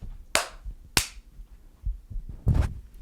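Several sharp hand claps made to sync a podcast recording, three distinct loud smacks spaced apart with a brief quiet gap, alone without talk.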